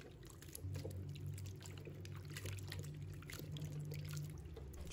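Water poured steadily into a bowl to wash peeled scallions, a soft continuous trickle and splash heard close up, fairly quiet, with a low hum underneath.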